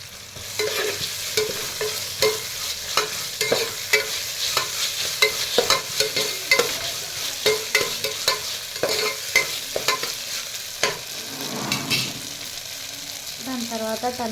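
Ginger-garlic paste frying with curry leaves in a pan, a steady loud sizzle under repeated scraping and stirring strokes from a utensil, continuous throughout.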